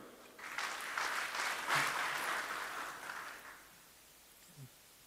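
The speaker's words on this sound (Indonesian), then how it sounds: "Sekali lagi tepuk tangan untuk beliau." An audience at a speaking event breaks into applause, a soft, fairly distant clatter of clapping that swells for about three seconds and then fades away.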